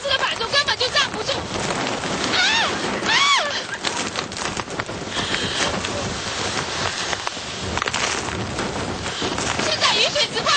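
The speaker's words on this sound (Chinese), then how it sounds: "暴雨從四面八方不斷打到我的臉上，非常的痛" Heavy storm rain from a typhoon lashes down, a dense, roaring wash that lasts throughout, with a voice calling out over it in places.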